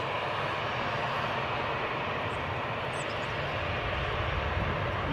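An airliner arriving at Newcastle airport on an inbound flight from Belfast produces a steady, dense engine roar at a moderate distance, loud and unbroken throughout.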